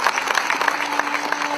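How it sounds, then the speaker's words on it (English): An audience at an environmental sustainability summit in Goa claps in a large hall, a short burst of fairly loud, dense applause with distinct individual claps standing out. "I think we can have a louder round of applause for that."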